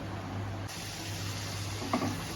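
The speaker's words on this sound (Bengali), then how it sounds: "3-4 মিনিট একটু ভাজা হয়ে যাক।" Diced potatoes frying in a pan for a potato and pointed gourd curry, giving a steady, moderate sizzle throughout with a brief stir near the end.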